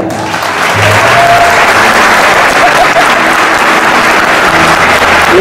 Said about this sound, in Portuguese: Este é o momento do aplauso maior.